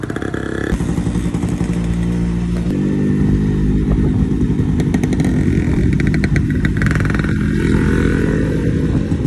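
Several two-stroke motorcycles on a group ride in the cold Quezon and Rizal area, loud and close, revving and buzzing as they pull away together with rising and falling engine pitch.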